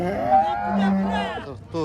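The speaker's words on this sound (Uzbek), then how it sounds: "Sigirni bolasimi bu?" A cow lows at a busy livestock market, one long drawn-out moo lasting over a second, close and fairly loud, with a brief second call starting at the end; market chatter stays faint underneath.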